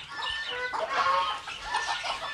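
Partridges calling inside a bird cage, a run of chirping, clucking bird calls, fairly faint and close, layered together over a couple of seconds without speech.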